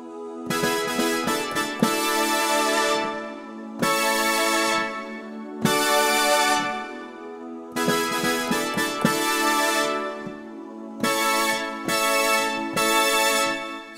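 Sustained synth vocal pad chords from a song swell and hold, changing every couple of seconds with soft breathy vocal tones layered on top, no talking.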